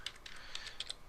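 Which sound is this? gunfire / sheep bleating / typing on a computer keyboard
typing on a computer keyboard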